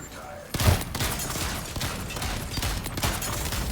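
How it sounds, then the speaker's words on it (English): Rapid automatic gunfire from a sentry gun in a video game, a dense loud burst that keeps rattling steadily for several seconds after an abrupt start, with a voice mixed in. "Sentry gun is ready when we need it."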